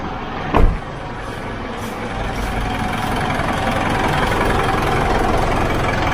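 A car engine idles at 700 to 800 RPM, a steady low mechanical hum holding an even, close drone after a brief sharp knock near the start, with no talking.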